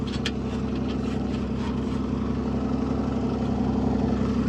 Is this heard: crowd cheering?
no